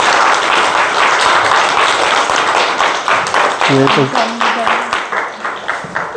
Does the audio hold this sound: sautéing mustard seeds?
no